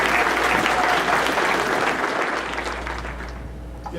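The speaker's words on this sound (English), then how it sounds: "Let's give another big round of applause for everyone who said a few words." Wedding guests give a big round of applause for the speech-givers, a dense, loud, sustained wash of clapping from a crowd that tapers slightly toward the end.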